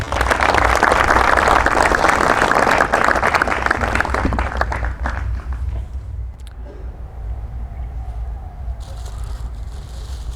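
Loud clapping from a group at a defence academy celebration for a navy selection, strong for about four seconds and then fading into quieter background noise with a faint passing tone.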